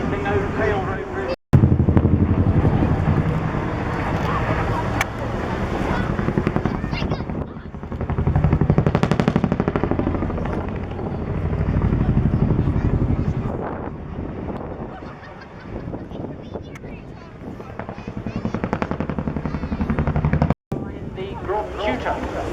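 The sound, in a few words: helicopter with contra-rotating rotor blades at an airshow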